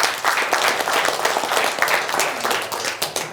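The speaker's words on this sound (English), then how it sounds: "Round of applause." A group claps together in a round of applause at a small sales-feedback session, dense steady clapping close by that holds for a few seconds with no talk over it.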